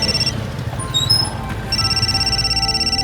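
A phone rings with a repeating electronic tone, pausing briefly before ringing again, heard close over a low background rumble.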